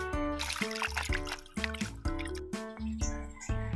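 Water pours in a steady trickle and splash into a cooking pot of ostrich legs, close and fairly loud, with gurgling pitch rising as the vessel fills.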